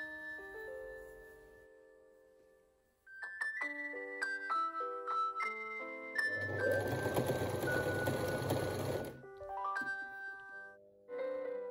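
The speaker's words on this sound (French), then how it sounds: "Je couds en même temps que je plie là le tissu." A sewing machine stitches recycled fabric for a bag while the cloth is folded, heard as a roughly three-second burst of close mechanical whirring set among tinkling melodic tones, with no talk.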